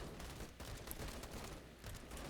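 Dense gunfire from the video game Call To Arms during a massive tank assault, a continuous rapid crackle of overlapping shots and bursts with no pause, busy and distant-sounding.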